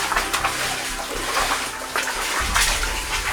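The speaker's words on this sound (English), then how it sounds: "Bit of water coming down the other side of it as well." Water trickles and splashes steadily down inside an old mine, a constant close wash of running water with no voices.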